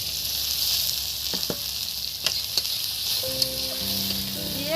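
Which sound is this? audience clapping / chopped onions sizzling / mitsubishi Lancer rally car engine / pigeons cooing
chopped onions sizzling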